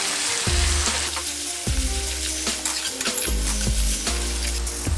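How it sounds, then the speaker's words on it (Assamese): Ginger garlic paste frying over high flame in a pan gives a steady, close sizzle, broken by several sharp stirring scrapes and clatters spaced about a second apart. "এইখিনি মই একদম ভালকৈ ভাজিম।"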